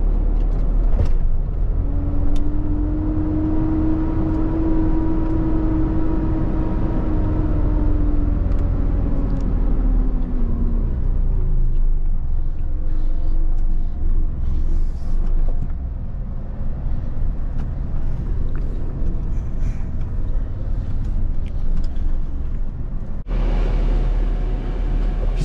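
Steady road and engine rumble from inside a moving car, a Subaru Forester in Japan, with a tonal whine rising and fading over the first ten seconds before settling into a constant drone.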